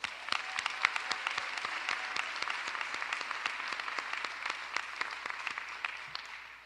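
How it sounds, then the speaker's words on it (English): Audience applause at Philadelphia's State of the City address, a moderate burst of distinct, closely spaced claps from a smaller cluster of hands that keeps a steady pace before tapering off. "That deserves a round of applause."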